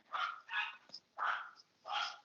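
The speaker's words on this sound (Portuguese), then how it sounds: "A cachorra tá brava." A female dog barking angrily somewhere in the house, four sharp separate barks in an uneven rhythm at moderate distance, with a faint yip between them.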